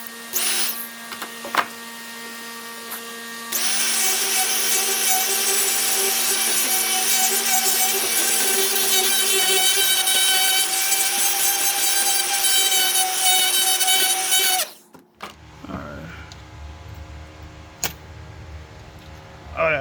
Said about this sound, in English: I'm gonna take a burr bit and try to clean up this hole a little bit